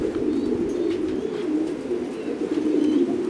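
Thai Titan pigeons coo steadily at a pigeon farm, a low continuous murmur of several birds close by, with faint chirps above.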